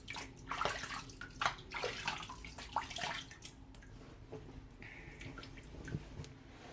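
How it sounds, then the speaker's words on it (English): Splashing tap water as a face is rinsed after shaving, with irregular splashes and drips over a steady running faucet, close and moderate, easing into a quieter trickle. "let's rinse off here"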